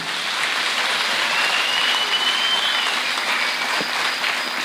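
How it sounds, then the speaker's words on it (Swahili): A church congregation applauds its bishops with sustained, even clapping that fills the hall at a steady level from start to finish, with no voices rising above it. "Tupige makofi kwa maaskofu wetu,"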